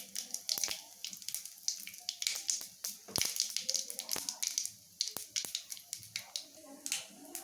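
Mustard seeds with curry leaves and asafoetida spluttering in hot oil while cooking chana sundal masala: rapid irregular crackles and pops, close and fairly loud, with a faint voice at times.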